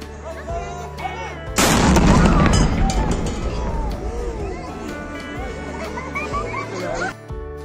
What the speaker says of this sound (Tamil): பீரங்கில் குண்டு முழங்கி எல்லாருக்குமே தெரியப்படுத்துவாங்க